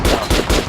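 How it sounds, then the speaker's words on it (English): Rapid gunfire at armored dummies in the Metro Last Light video game, about three loud, close shots in quick rhythmic succession. "Now shoot armored dummies."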